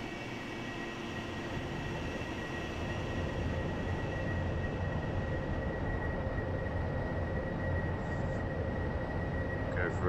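An AV-8B Harrier jet engine roars steadily in a flight simulator game during a vertical takeoff, a constant broadband rumble with a faint whine over it and no letup.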